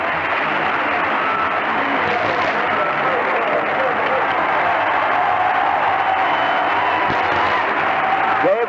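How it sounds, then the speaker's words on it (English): Basketball crowd roaring for the Knicks in a 1973 NBA playoff game against the Bullets, a loud, dense, sustained wash of cheering and applause that fills the arena without letting up. "And here's that crowd reaction for the Knicks."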